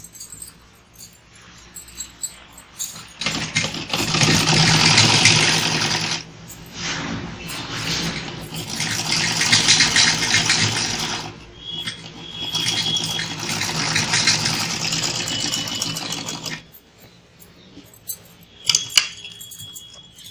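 A sewing machine runs in several long bursts while stitching a folded blouse strip, a steady close mechanical whir and rattle with brief pauses between runs and a few small clicks near the end.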